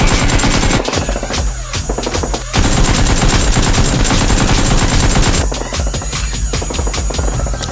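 X-Shot Nerf guns fire in rapid bursts during a mock battle, a loud dense rattle of fast clicks and pops that continues almost without pause.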